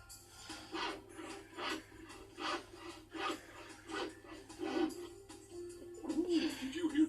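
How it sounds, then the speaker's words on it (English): A hand saw cutting wood on a construction site, rhythmic rasping strokes about once or twice a second, fairly close and steady, with a low hum underneath. "That's a saw cutting wood."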